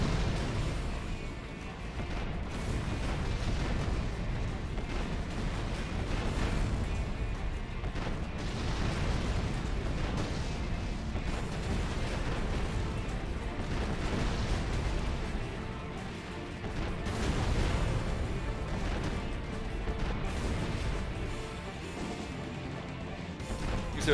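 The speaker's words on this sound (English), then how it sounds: "show some really quick aiming with these manual aim rockets" Manual-aim rockets fire and explode in Armored Core: For Answer, a dense, continuous barrage of booming blasts and crashing impacts under a steady roar of mech combat, loud throughout.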